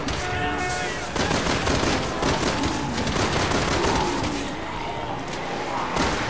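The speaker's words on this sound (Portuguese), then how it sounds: "eu vou meter bala nele" Dense, continuous gunfire in the video game Resident Evil 6, rapid overlapping shots forming a loud, sustained barrage from start to end with slight dips in intensity.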